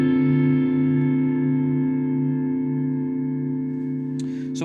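A guitar tone runs through a Mooer Black Truck pedal with the reverb decay set to maximum, sustaining a long, smooth wash of held notes that fades slowly, followed by faint string noise near the end.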